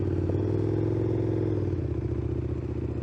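A two-stroke motorcycle engine drones steadily up close, its low pulsing harmonics shifting slightly as it moves past, with a faint rattling clatter.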